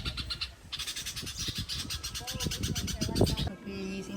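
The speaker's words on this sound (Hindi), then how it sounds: "यहाँ पे है छोटे बच्चे बुलबुल के।" Baby bulbul chicks calling from a nest, a rapid stream of thin, high, repeated chirps close by, with voices talking underneath and the calls stopping abruptly near the end.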